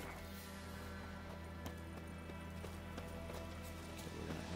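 Hooves clip-clop in a steady galloping rhythm as a horse runs across a field in The Witcher 3: Wild Hunt, the repeated beats faint and even over a low game background.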